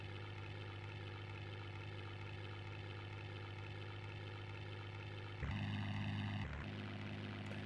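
An aircraft engine from an Amiga video game drones in a steady, buzzing propeller tone with no talk, and a brief louder shift near the end.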